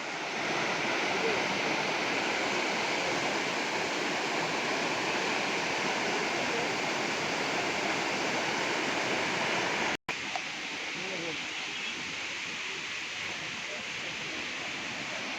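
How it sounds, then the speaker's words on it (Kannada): Water flows strongly from a stream or small waterfall beneath a large tree, a dense continuous rushing close by that briefly cuts out and then resumes slightly softer. "ನೋಡಿ ಬಂಧುಗಳೇ, ಇಲ್ಲಿ ನೀರು ಎಷ್ಟು ಚೆನ್ನಾಗಿ ಬರ್ತಾ ಇದೆ."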